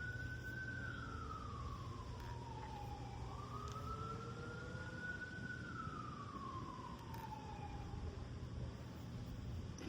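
Emergency vehicle sirens wail through a Chicago neighborhood, a single rising and falling tone heard at a distance over a steady low rumble of background noise, with no talking.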